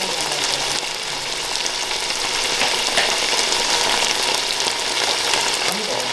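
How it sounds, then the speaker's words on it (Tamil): Green chillies fry in a pan for biryani, giving a loud, continuous close-up sizzle with faint crackles throughout and no speech. "நான் இப்ப பச்சை மிளகா பச்சை மிளகா போட்டேன்"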